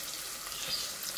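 Onions frying in a pan for kofta, a steady soft crackling sizzle with no voices, even and continuous throughout.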